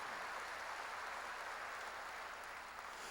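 A church congregation applauds together during a sermon, a steady, even wash of hand-clapping that stays faint and constant with no voices rising over it.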